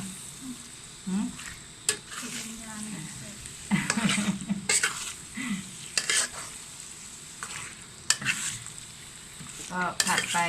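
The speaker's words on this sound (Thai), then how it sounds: "ผัดเลยจ้า" Chicken sizzles and is stirred in a hot wok, with scraping and clattering of a spatula in short bursts and faint voices now and then.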